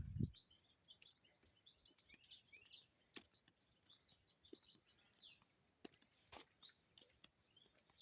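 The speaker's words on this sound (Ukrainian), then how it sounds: "Налякали пташку." A small bird gives faint, scattered high chirps outdoors near a stream and willows in the evening, set against quiet ambient noise with a brief low thump at the start.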